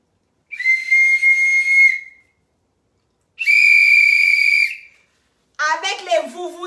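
A shrill whistle blows twice in sustained blasts with a pause between them, and then a voice starts speaking.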